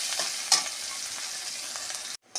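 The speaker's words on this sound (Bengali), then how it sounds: "রসুনটা ভাজা ভাজা হয়ে গেছে" Garlic sizzles steadily in oil in a home kitchen pan, a dense crackling hiss with one stir near the start before the sound cuts off briefly at the end.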